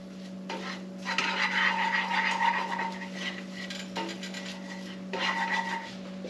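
A utensil scrapes and stirs flour into melted butter in a pot to cook a roux, rhythmic rubbing strokes over a steady background hum, with no talking.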